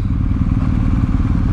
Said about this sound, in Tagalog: So maghanap ng parking para secured ang motorsiklo natin.